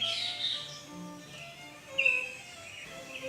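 Green birds and blackbirds chirp among hibiscus flowers, a few short, high tweets at moderate distance against a quiet outdoor background.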